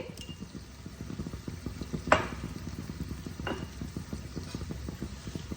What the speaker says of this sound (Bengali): ভালো করে পেঁয়াজটাকে আমি কষতে দেব।